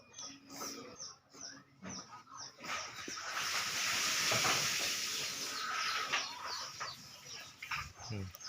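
Bantam chickens cluck and cackle up close, in short bursts that swell into a busier stretch of calls before settling again, with a little background noise.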